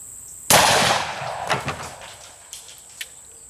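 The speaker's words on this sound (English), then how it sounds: "There's still a lot of bone there, so let's shoot it one more time." A Desert Eagle .50 AE fired into bone gives a single loud, sharp gunshot that rings out and fades, followed by a few faint knocks and clatters.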